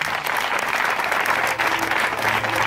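A church congregation at a Sunday worship service applauds steadily and loudly, a dense continuous clapping with some crowd noise throughout.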